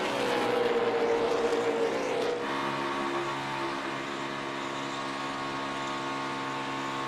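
NASCAR stock cars race toward the white flag with one lap to go, a loud engine whine that pitches down as a car passes close, then a steady roar of the pack continuing.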